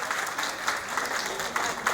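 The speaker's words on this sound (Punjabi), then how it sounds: "Please give a big hand to everyone." An audience at a Sweet 17 birthday party applauds after a performance: dense, steady clapping from many hands, filling the room evenly for a couple of seconds, with no clear speech over it.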